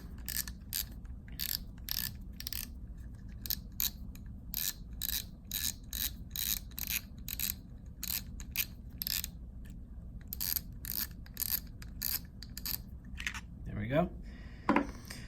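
Spinning fishing reel being taken apart during a bailless conversion, with sharp clicking and ratcheting of small mechanical parts and handling taps, close and fairly faint.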